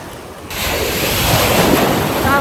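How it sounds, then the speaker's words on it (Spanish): Strong ocean surf breaking on the shore at a beach in Bridgetown, Barbados, a steady loud wash of waves with wind buffeting the microphone, swelling after a brief quieter start. "Las olas rompen y como que a veces rompen más en la orilla, a veces más atrás"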